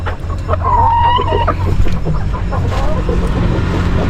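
A Texas chicken clucks in grassy ground outdoors, with several close, throaty clucks early on. A steady low background rumble runs underneath.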